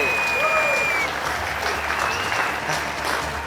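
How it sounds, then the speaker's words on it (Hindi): Loud, steady applause from a crowd for Jyoti Bhabhi at a Christmas celebration, continuous through the moment with a faint whistle-like tone over it. "जोरदार तालियां हो जाए हमारी ज्योति भाभी के लिए"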